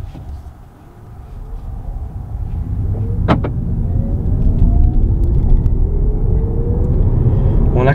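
A 2017 VW Golf GTE plug-in hybrid accelerates onto a highway, its low rumble of road and drivetrain noise building over the first seconds and then holding steady and loud from inside the cabin, with a brief faint whine partway through.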